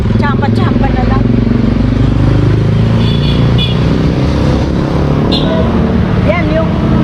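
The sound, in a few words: motorcycle passing during fun run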